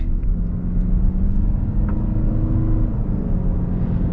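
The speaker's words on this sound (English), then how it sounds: "we can actually get up and move now, so we'll get a better acceleration up here in a moment" A 2023 hybrid SUV pulling away from low speed, heard from inside the cabin as a steady low engine and road rumble that holds fairly even throughout, with no talk.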